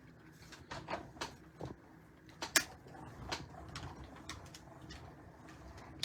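A die-cut embossing machine feeds cardstock inside an embossing folder on its number 4 plate, giving quiet, intermittent clicks, knocks and rolling thumps with one sharper snap partway through; no voices.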